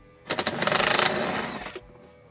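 A 10mm socket driven by a power tool backs a small bolt out of a Jeep Wrangler JL tailgate, giving a close, loud mechanical whir with a few ratcheting bursts that lasts about a second and a half before stopping.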